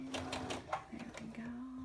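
A sewing machine stitching fabric for an earbud holder, giving a few rapid mechanical clatters close by, with a steady hum and a voice talking alongside.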